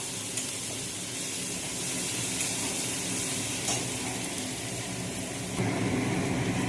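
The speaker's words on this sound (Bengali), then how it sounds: "রসুনটা ভাজা ভাজা হয়ে গিয়েছে," Steady, dense sizzling of garlic paste frying in hot oil, continuous and close, growing slightly louder near the end.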